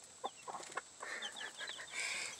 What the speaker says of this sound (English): Let's see what these cute baby chickens are doing.